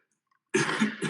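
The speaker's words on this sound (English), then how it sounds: "It's just a cough." A single close, loud cough with a rough throaty burst, erupting abruptly after silence and trailing into a second short hack.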